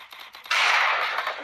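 Gunfire in the mobile battle-royale game Free Fire: a sustained burst of rapid shots that cuts in sharply halfway through and stays loud and dense to the end, alone without talk.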